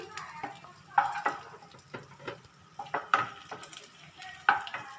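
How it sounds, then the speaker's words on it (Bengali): Chicken pieces fry in oil in a pan while being turned, a soft sizzle running under repeated close clinks and scrapes of a spatula against the metal, with no voices. "আবার অন্য পিঠটাও আমি লাল করে এইভাবে ভেজে নিচ্ছি"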